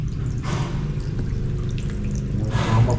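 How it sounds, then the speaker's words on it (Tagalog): Water leaking inside a house, in what used to be a bathroom, falling in a steady close patter with brief louder splashy bursts, no talking. "Yun ang lakas ng tulo"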